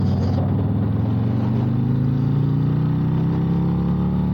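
A Harley-Davidson Road Glide Special motorcycle accelerates with a loud, close engine drone, its pitch climbing steadily under continuous wind rush as it gathers speed.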